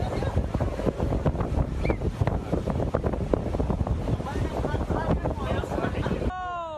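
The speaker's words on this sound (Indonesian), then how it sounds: "Inilah video amatir warga yang merekam detik-detik munculnya pusaran angin puting beliung dari tengah laut pantai Pararenan, Kuta Utara, Badung, Bali." A tornado waterspout rises over the sea at Pararenan beach in Kuta Utara, Badung, Bali, with loud, steady wind roaring and buffeting the microphone over the surf before cutting off abruptly.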